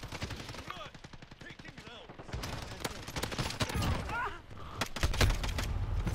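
Rapid bursts of automatic gunfire in the Modern Warfare video game, with a submachine gun and shotgun in play, crackle close and loud in dense volleys, broken by brief pauses and louder heavy shots near the end.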